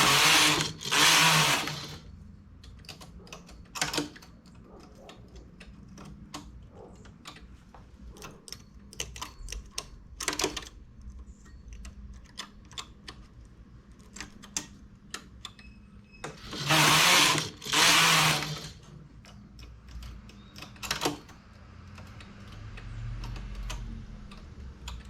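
A knitting machine works a one-shoulder blouse, its carriage sweeping across in loud bursts of clattering between stretches of quieter ticking and clicking, with no voices.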